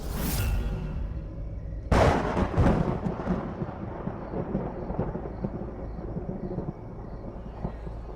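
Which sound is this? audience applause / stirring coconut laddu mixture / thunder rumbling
thunder rumbling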